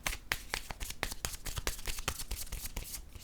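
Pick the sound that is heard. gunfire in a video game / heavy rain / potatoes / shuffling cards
shuffling cards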